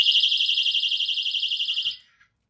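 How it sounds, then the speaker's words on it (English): A keychain personal safety alarm shrieks loud and close in a steady pulsing high-pitched tone for about two seconds, then cuts off into silence. "if I pull this, the alarm is going to go off in case you get attacked"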